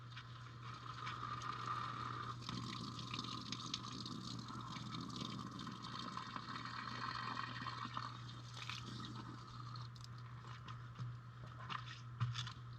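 Water runs from a tap into a container, a continuous faint rushing and trickling with a steady low hum underneath, no talking, ending in a few small splashes.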